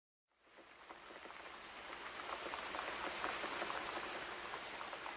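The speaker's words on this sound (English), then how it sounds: "Then it began to rain." Steady rain begins after a brief silence and builds into a dense, even patter of drops that holds at a soft, constant level.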